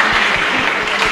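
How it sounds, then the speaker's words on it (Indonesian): Audience clapping for a band at a venue, dense and steady applause filling the whole short moment, loud and close. "tepuk lagi tangan dong buat bandnya."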